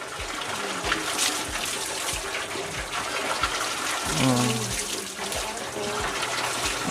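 Water runs from a tap in a steady, full rushing stream that stays even throughout, with faint voices in the background.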